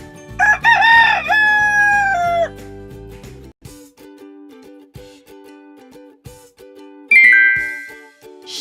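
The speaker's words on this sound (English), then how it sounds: "rooster" A rooster crows loudly at the start with a long, wavering call, followed by a steady low drone and, near the end, a shorter second crow.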